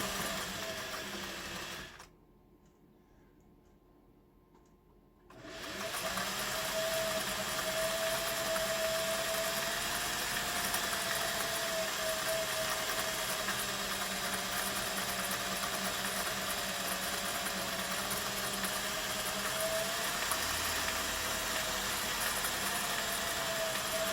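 A Singer 401A sewing machine runs steadily with a close, continuous motor whir and hum, after a short quiet pause near the start, with no talking.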